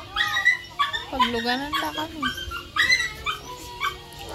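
A dog whimpers and yips during a birthday gathering in Kiblongan, its wavering whines rising and falling close by while people talk over and around it.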